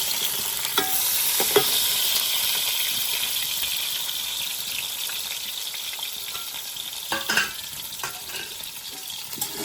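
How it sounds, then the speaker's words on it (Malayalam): Onions frying in oil for chicken biryani, a loud continuous hiss and crackle of sizzling with occasional stirring knocks and scrapes, close up and without talk. "സവോള ഇട്ട് കൊടുക്കണം"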